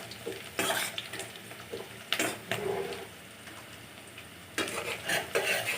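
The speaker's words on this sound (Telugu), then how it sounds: "చూడండి, ఆనియన్స్ మంచి గోల్డెన్ బ్రౌన్ కలర్ వస్తున్నాయి. ఇంకా కొంచెం ఫ్రై అనిద్దాం." Onions frying in a pan until golden brown for a dondakaya (ivy gourd) fry, a soft continuous sizzle interrupted by several loud bursts of spatula stirring and metal scraping against the pan.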